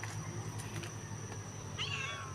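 A cat gives a short meow near the end, faint against a steady background hum with a few soft ticks and clatters before it.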